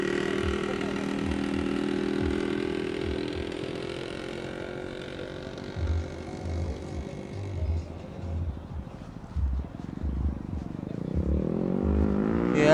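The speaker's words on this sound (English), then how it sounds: "Couple of vintage mopeds coming in there." Vintage mopeds at a busy classic-car breakfast meet ride in with buzzing small two-stroke engines, a steady drone that wavers and rises again near the end, with crowd noise and voices around.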